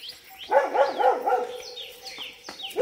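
A dog barks at a hillside coffee estate home, giving a quick run of four or five yelping barks at moderate distance, with birds chirping around it.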